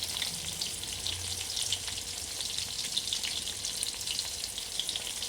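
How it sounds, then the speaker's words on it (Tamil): Shallots and dried red chilies frying in a pan, a close, even sizzle with bright crackling spatter that continues without a break. "நம்ம சின்ன வெங்காயத்தையும் வரமிளகாய் நம்ம காரத்துக்கு தகுந்த மாதிரி நல்லா காரமாக பாருங்கள், நல்லா வதங்கணும், பொன்னிறமாக ஆகணும்."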